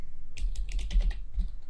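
Quick bursts of typing on a computer keyboard while coding a Unity 3D script, close and fairly soft, a flurry of keystrokes followed by a brief pause and a few more taps.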